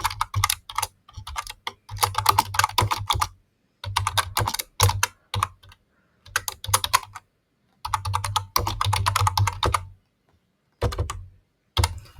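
JavaScript code being typed on a computer keyboard, close and clear rapid bursts of keystrokes separated by short pauses, with no talk.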